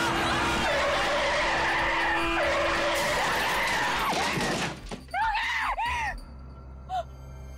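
A car skids out of control with loud, sustained tire squeal and engine roar, followed by a crash-like burst and a few trailing screeches, part of a dramatic scene with a brief shout.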